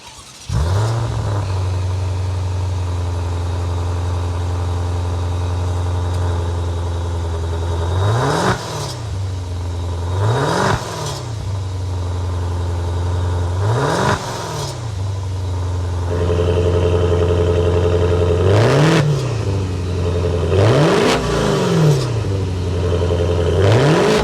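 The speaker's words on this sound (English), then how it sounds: "Let's get inside this and hear that exhaust note." A 2022 Maserati Levante Modena S twin-turbo V8 exhaust rumbles at idle and is revved repeatedly, each blip rising and falling sharply; loud and close, with no talking.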